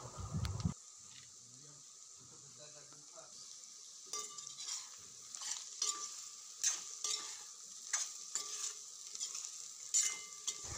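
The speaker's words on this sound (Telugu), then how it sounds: "కారం, ఉప్పు వేసుకున్నాక మంచిగా ఆలూస్కి పట్టేలాగైతే మంచిగా కలుపుకోవాలి" Fried potatoes being stirred with chili powder and salt in a pan: a soft, steady sizzle with intermittent scraping and tapping of the spoon, fairly quiet and close, with no voices.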